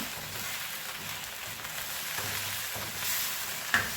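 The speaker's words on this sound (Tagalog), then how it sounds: "Yan, gisa talaga siya. Pinigisa ko muna yan" Chicken feet sauté in a pan for a spicy adobo, with oyster sauce going in. A continuous moderate sizzle and frying crackle run throughout, with a brief sharper clink near the end and no speech.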